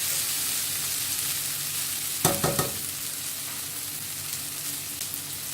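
Masala for Kerala-style squid roast sizzling and frying in a pan, a steady hiss with a brief burst of stirring scrapes midway, close and unaccompanied by talk.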